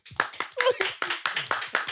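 A crowd at a live talk show claps hands in a quick, even rhythm of about eight loud, close claps over two seconds.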